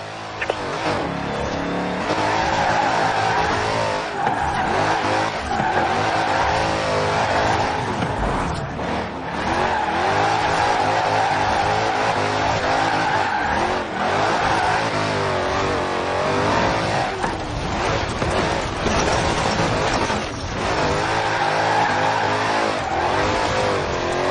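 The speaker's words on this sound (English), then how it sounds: "Now let's really shred those tyres." A car in the Forza Horizon 4 racing game revs and accelerates through a drift run, engine surging and falling repeatedly with tyre noise over about twenty seconds, loud and close, with no talking.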